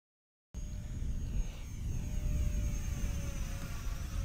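A small Eachine Spitfire or P51D Mustang RC warbird flies past with a steady whining motor drone over outdoor wind rumble, holding constant loudness for several seconds after a brief silent start.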